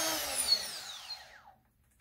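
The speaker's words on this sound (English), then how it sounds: "Now I'm going to drill it a little bit larger." A battery power drill enlarges a hole while assembling a pachinko ball lifter kit, its high whine sliding steadily downward as the motor spins down over about a second and a half, then silence.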